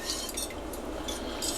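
A spoon stirs melting cheese in a figure-8 pattern for bacon mac and cheese, giving a steady, close scrape with light metallic clinks against the pot.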